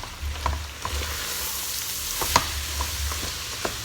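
Two grated medium carrots sizzle steadily in a large pan as carrot farofa cooks, with small pops and stirring scrapes through a dense, close frying hiss.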